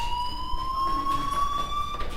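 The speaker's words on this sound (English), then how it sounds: "Hey, do you hear that fire alarm? That means you should be outside." A fire alarm rings in the video game Life is Strange: a steady, continuous electronic tone with bright overtones holds unbroken throughout, fairly loud and alone without voices.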